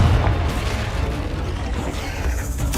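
A Confringo spell explosion in Hogwarts Legacy: a loud, booming blast that opens with a strong low thump and fades into a dull rumble, with a sharp crackle near the end.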